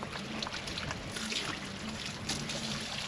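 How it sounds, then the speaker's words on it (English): Water pours steadily into a lake sprinkler pump being filled to prime it, a continuous close trickling splash with a faint low hum underneath and no talk. "Right now I'm just going to fill up the pump until it won't take any more water."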